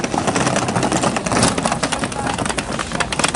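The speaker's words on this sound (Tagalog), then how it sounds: "sinecheck pa ni Tops yung makina niya." A vehicle engine idling while it is checked over, a steady dense mechanical rumble and whir that holds an even level for a few seconds, loud and close.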